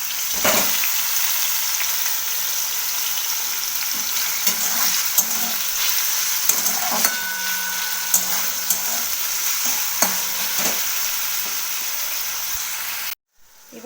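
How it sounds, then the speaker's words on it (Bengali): Tomatoes softening with a little salt in a hot pan give a steady sizzle, with repeated stirring scrapes and sharp spoon taps throughout before a sudden cut near the end. "টমেটোগুলো আমি ভালো করে নেড়ে ফেলে নেব"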